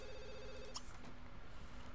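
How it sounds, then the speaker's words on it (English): A telephone in The Sims 3 rings with a warbling electronic trill, one burst followed by a short clatter, then a quiet background hum, with no speech. "Can he answer the phone?"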